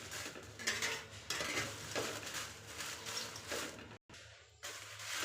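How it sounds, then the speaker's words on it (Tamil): Dried red chillies sautéed in a metal pan, with a steady clatter of stirring and scraping, light pan clinks and a faint sizzle close by, briefly cutting out for a moment near the end. "வரமிளகாயை நம்ம சூடு ஏறுற மாதிரி வதக்கிட்டுங்க"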